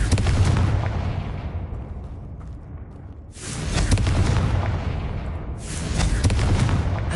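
Confringo spell blasts from Hogwarts Legacy burst against spider egg sacs, three heavy booming explosions in turn, each starting loud and decaying into a rumbling tail.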